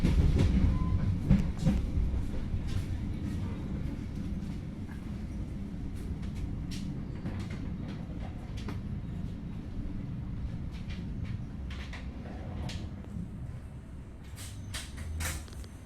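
Tawangalun economy passenger train rolling along the rails, heard from inside the carriage as a steady low rumble with intermittent wheel clicks and rattles, fairly quiet and continuous.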